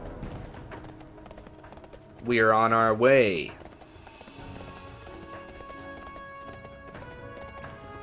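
Hooves of the Acarus Death Charger mount in World of Warcraft clop steadily through the game soundscape, a continuous muted gallop under ambient game audio while someone briefly speaks.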